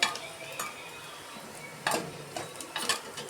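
Onions fry in a pan for khichdi, with a soft sizzle beneath a few sharp scraping stirs of a spoon against the pan, heard up close.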